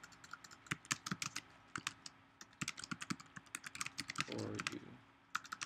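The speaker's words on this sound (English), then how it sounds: "I can type in," Rapid irregular typing on a computer keyboard while a URL is entered, close and crisp clicks in bursts with brief pauses, and a short mumbled voice near the end.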